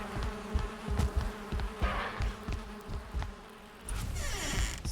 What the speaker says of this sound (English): something's attacking the bees right now